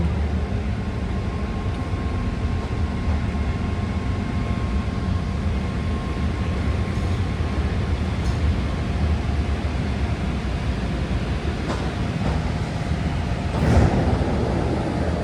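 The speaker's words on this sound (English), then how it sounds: "Here we are pulling into Hayward Station" A six-car BART Green Line train bound for Berryessa pulls into Hayward Station, giving a steady, loud interior rumble with a faint sustained tone and a few brief higher squeaks near the end.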